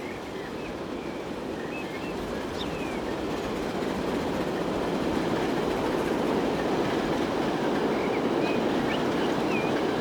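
A train rolls past in the railway simulation game Transport Fever 2, set in 1920s Britain, producing a steady, dense rumble with faint clicks and wheel squeals that grows slightly louder throughout, with no talking.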